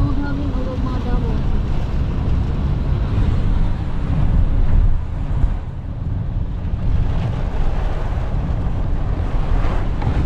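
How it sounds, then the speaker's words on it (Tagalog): Strong, steady wind roars at a beach in San Fabian, Pangasinan, blending with broadband surf and buffeting the microphone for the whole stretch, with a faint voice briefly underneath. "Sobrang hangin."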